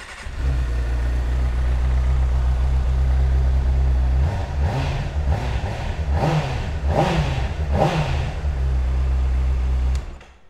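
A 2009 Honda CBR600RR sport motorcycle fires up and idles steadily, then gets several sharp throttle blips that rise and fall in quick succession before it shuts off, heard close with no talking.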